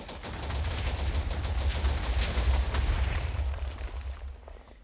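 Dense gunfire from the Diamond Star Combat Mod video game rattles in a continuous, loud barrage of rapid shots that holds for several seconds and then tapers off.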